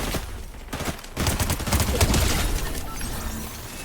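Fortnite Save the World shotgun fire comes in a dense, crackling volley of blasts that swells loud for a couple of seconds, then trails off into a softer clatter.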